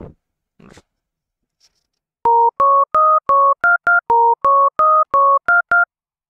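Default synthesizer oscillator preset in FL Studio: steady tones in a run of short, evenly spaced beeps that shift pitch slightly, clean and electronic, heard alone after a few faint clicks.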